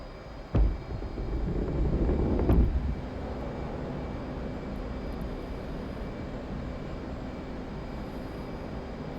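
Jet engine afterburner roaring in the DCS flight simulator, a steady loud broadband rumble that holds throughout, with two sharp thumps near the start.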